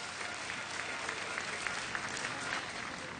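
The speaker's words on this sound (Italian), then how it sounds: "Un grande applauso." Large crowd at the World Youth Day opening ceremony in Panama applauding steadily, a dense sustained roar of clapping that stays loud and even throughout, heard alone without talk.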